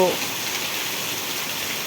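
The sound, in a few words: very heavy rain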